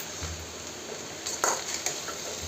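A spoon stirs salt into food in a cooking pot over a soft steady hiss, with a few light metallic clinks and scrapes against the pot and no talking.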